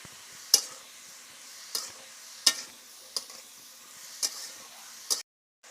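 Soaked raw chickpeas being stirred into ash gourd in a cooking pot, giving several separate scraping clinks of the spoon against the pot about once every second over a low sizzle.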